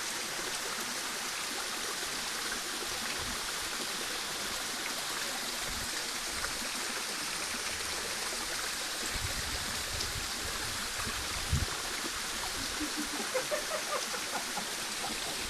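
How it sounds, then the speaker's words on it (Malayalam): The Erumapra waterfall in Kottayam, Kerala pours in a constant broadband rush of falling and flowing water, steady and fairly close throughout, with faint splashes and no voices. "ആ കാണുന്നതാണ് വെള്ളച്ചാട്ടം."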